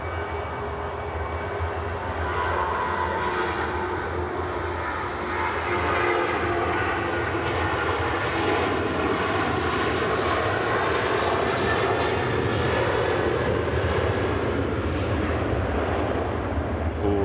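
A Jet2 Boeing 737 airliner on its takeoff run and rotation, a loud sustained jet engine roar that swells steadily and alone throughout.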